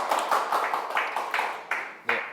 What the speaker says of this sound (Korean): 첫 시간이니까 박수로 환영하고 강의 시작하겠습니다.